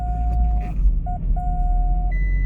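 A gear change in a 20-year-old Vauxhall Zafira 1.6 16V during a flat-out run: a steady close engine drone carrying a thin, whining tone that breaks off briefly and then returns, with no talk.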